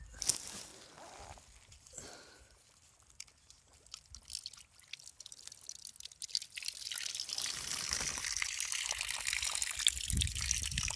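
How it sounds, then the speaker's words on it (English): Water runs from a standard hose fitting tap, a faint hiss and trickle at first that swells into a steadier, louder gush toward the end. "I've got water."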